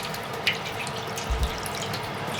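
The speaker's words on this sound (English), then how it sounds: "The lower rack in your oven, on a tray, just fill it with water so that it keeps the cake nice and moist." Water is poured steadily into an oven tray on the lower rack, giving a soft, continuous splashing hiss with a couple of faint knocks from the tray, fairly quiet.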